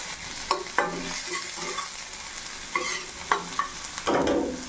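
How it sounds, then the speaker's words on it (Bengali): Onion stirred and frying in a pan over a low gas flame for chilli paneer: a soft, steady sizzle close by, broken by several sharp scraping stirs of a spatula, with no talking. "এবার আমি পেঁয়াজটা দিয়ে দিলাম। পেঁয়াজটা একটু ভালো করে নেড়ে চেড়ে নিতে হবে।"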